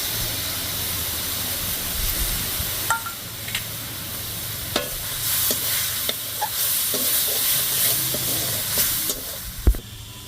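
Onion paste fries with spices in a pan for an echor chingri dish, a loud continuous sizzle and hiss with intermittent spatula scrapes and taps as it is stirred.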